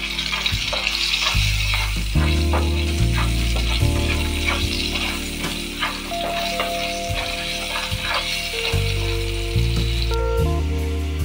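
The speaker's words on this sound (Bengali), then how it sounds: "আলুগুলো ভেজে নেব" Potato pieces fry in a pan of hot oil for a mutton curry, an even, busy crackle running throughout with music playing underneath.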